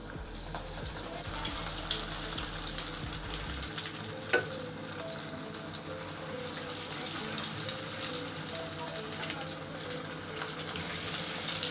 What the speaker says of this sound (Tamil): இப்போ நம்ம கட்லெட்டை பொரிக்க ஆரம்பிச்சிடலாம்.